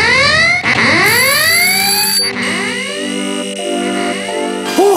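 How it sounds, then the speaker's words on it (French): A cartoon alarm system guarding a seed blares, with rising and falling whooping sweeps followed by steady electronic beeping tones and a final warbling burst, loud and close with no talking. "tu as installé un système d'alarme pour surveiller ta graine"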